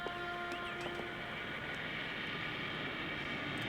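An airplane engine drones steadily in an old ninja film soundtrack, a dull continuous hum heard alone, with a few faint tonal blips early on.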